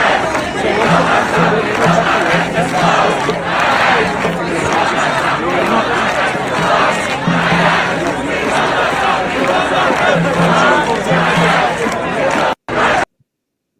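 Dense protest crowd at Columbia University, a steady roar of many voices with rhythmic chanting rising and falling throughout, close and loud, ending abruptly.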